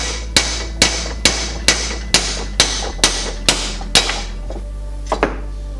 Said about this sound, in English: put them in a vise or like over some blocks of wood and just hammer on the stud.